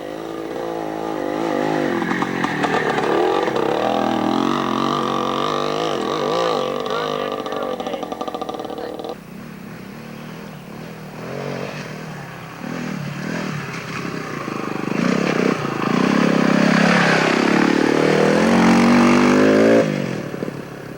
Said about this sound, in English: And here's Bob Aldred on a 1969 Greaves.